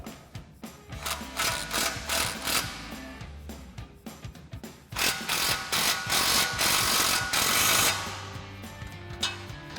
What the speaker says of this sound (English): we can tighten down our clamp using our 15mm socket